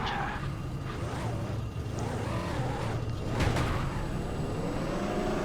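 Winged car in the video game Robocraft drifting and skidding, its engine whirring and revving with sweeping tire screech, steady and fairly loud, with no talk over it.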